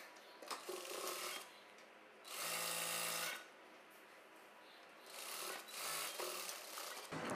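A sewing machine runs in short bursts while stitching the side seam of a blouse, with two quick whirring runs separated by quieter handling and rubbing of the fabric.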